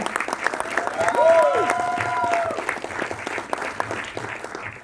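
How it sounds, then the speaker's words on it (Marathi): An audience applauds for actress Priya Berde at a stage event, a dense, sustained clapping crowd with a few cheers rising over it, holding steady for several seconds. "जोरदार टाळ्या प्रिया मॅमसाठी पाहिजे पुन्हा एकदा"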